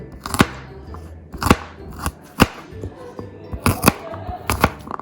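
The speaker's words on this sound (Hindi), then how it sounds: "5-6 मेरे पास लहसुन के ये हैं क्लोव्स हैं, इनको भी मोटा मोटा स्लाइस कर लें आप और चॉप कर लें।" A knife slices and chops garlic cloves on a board, giving a series of sharp, close, irregularly spaced cuts, some in quick pairs, with a little talk in the background.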